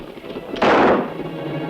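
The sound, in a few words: gunshot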